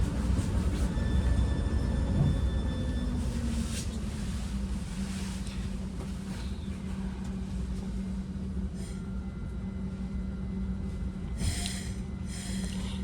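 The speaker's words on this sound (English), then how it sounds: "here we are pulling out of California Avenue with our next stop being San Antonio" A southbound Caltrain local commuter train rumbles steadily as it pulls out of California Avenue station, with a low droning hum, faint rail clatter and occasional brief hissing bursts near the end.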